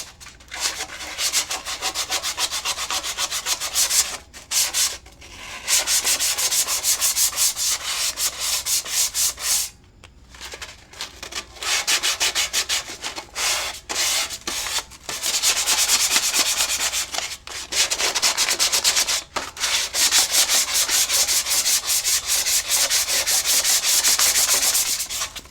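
Sandpaper of 320 grit is rubbed back and forth over a Corvair part in loud, close, raspy strokes, broken by several short pauses, with no talking.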